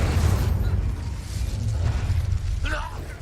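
A Confringo blasting curse goes off in Hogwarts Legacy with a loud, rumbling burst at the start, then a low roar that fades slowly. A short sharp effect follows near the end.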